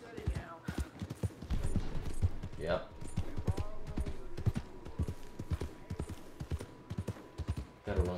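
Galloping horse hooves in the Western video game Red Dead Redemption II pound in a quick, rhythmic run, close and prominent, with someone speaking briefly over them.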